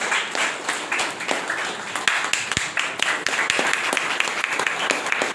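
Dense audience applause at a motivational speech event, steady many-handed clapping with sharp individual claps, continuous and fairly loud throughout.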